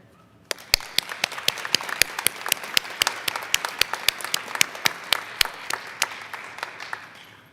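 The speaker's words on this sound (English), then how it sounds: "Please join me in a round of applause for those who supported us through this journey." An audience at a nursing pinning ceremony breaks into steady applause, a moderately distant crowd of many hands clapping continuously for several seconds, with no speech over it.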